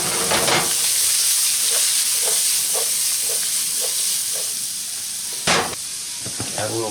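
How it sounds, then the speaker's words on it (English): Onions sautéing in olive oil and salted butter, a loud steady sizzle close up with a series of light regular stirring taps and one sharp clatter near the end; no voices. "next it's time to saute my onions. I'm using a little olive oil and butter"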